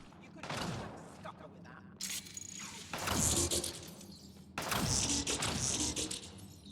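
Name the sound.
gunfire in video game Mass Effect: Andromeda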